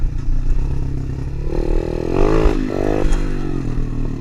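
A DB24 pit bike engine runs continuously during a ride, loud and close, its note rising and falling as the throttle is worked, with rattling and wind noise from the moving bike.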